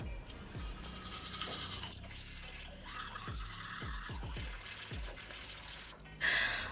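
Electric toothbrush brushing teeth, a buzzing whir with repeated short scraping strokes in an irregular rhythm, close up, ending in a brief louder burst.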